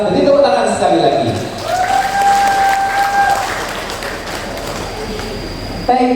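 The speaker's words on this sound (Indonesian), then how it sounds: "beri tepuk tangan sekali lagi" Applause from an audience at a teachers' good-practice sharing session, moderate clapping under a sustained tonal whine and a voice, fading slightly before a sharp lift at the very end.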